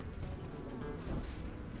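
A buzzing bee swarm skill from the Lord of the Rings Online video game, a dense insect drone that hums faintly and steadily throughout.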